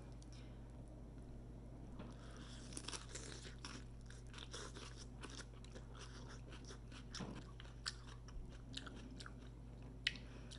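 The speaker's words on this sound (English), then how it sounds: "the lettuce is crunchy." Faint, close crunching bites of crisp lettuce eaten with crab paste noodle soup (bún riêu), irregular and repeated over a low steady hum, with no talking.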